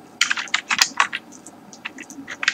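CSS code being typed on a computer keyboard, a close, quick burst of clicky keystrokes in uneven runs with brief pauses, alone without talk.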